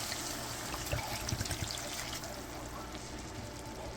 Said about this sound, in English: We're going to add 1 small bottle of Cabernet.